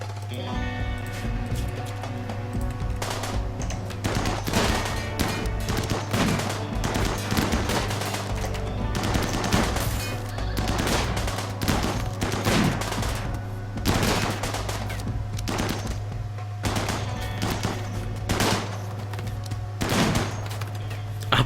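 Rapid bursts of gunfire during a raid in RimWorld, dense and continuous over a steady low hum, with sharp shots recurring throughout and no talk.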